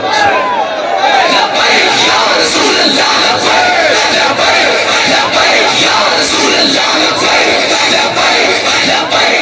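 A loud, dense crowd at a religious gathering chants Labbaik slogans together, a continuous roar of many voices with rhythmic swells and yells throughout.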